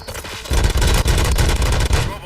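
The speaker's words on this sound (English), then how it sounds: "Gunshots? What's going on?" Rapid bursts of gunfire in the video game RoboCop: Rogue City, a loud, dense volley of overlapping shots lasting a couple of seconds with a brief gap midway.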